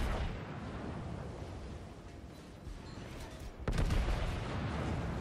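Heavy naval gunfire from the Tirpitz battleship in World of Warships, a dense rumbling roar of artillery with a sharp blast near the end, loud and continuous, with no talk.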